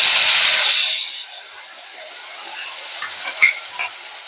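Loud hissing sizzle as a ground paste hits hot ghee with cumin seeds, quickly settling into a quieter, steady frying crackle with a few pops.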